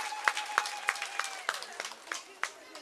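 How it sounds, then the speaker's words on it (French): Scattered clapping rises from a small gathering at a community event in Benin, a handful of distinct, uneven claps ringing out over a faint tonal hum. "Je voudrais qu'on l'applaudisse très fort."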